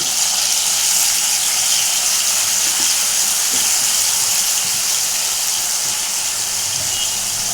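Begun keema bharta (eggplant with minced meat) sautés in a pan over a gas flame, giving a steady, close, bright sizzling hiss that runs unbroken throughout with no talking.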